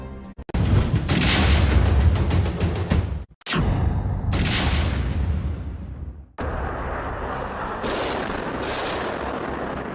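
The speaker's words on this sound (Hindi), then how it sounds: "यूक्रेन के इरपिन शहर में यह धमाका कैमरे में कैद हुआ।" Explosions and heavy bursts of gunfire in wartime Irpin, Ukraine, loud and sustained, broken by brief gaps, with a booming blast near the middle and rolling fire continuing afterward.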